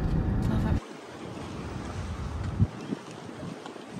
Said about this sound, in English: It's so like windy but hot.